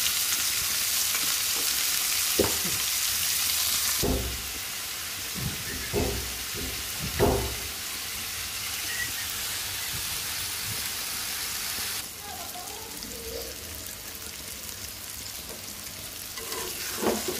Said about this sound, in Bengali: করলা ভাজি যেহেতু ঢাকবো না, মিডিয়াম আছে ভাজিটা করে নিব।